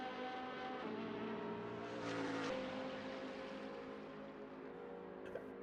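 A BMW race car in a racing video game half-spins, its engine droning steadily and loudly with shifting revs throughout, no talk over it.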